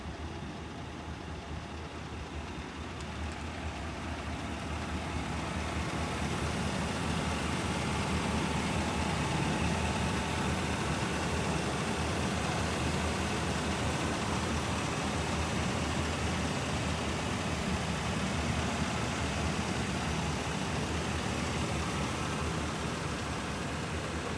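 The 6.6-liter V8 gasoline engine of a 2022 GMC Savana 2500 cargo van idles with a steady low rumble throughout, moderately loud and unchanging, with no voices.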